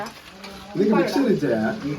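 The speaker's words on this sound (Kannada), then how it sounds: "ಅದು ಶ್ವೇತಾ, ಶ್ವೇತಗೆ ಸೂಪ್ ಮಾಡ್ತಾ ಇದ್ದಾರೆ ಅಕ್ಷಯ್." Soup is stirred in a pot while cooking: a short scraping, swishing stir with a faint sizzle underneath, and a voice briefly heard over it.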